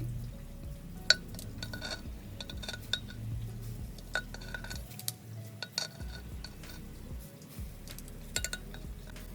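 Pieces of mutton fat set into a clay pot for namkeen gosht, giving scattered light clinks and taps against the pot, quiet and close, with no talking.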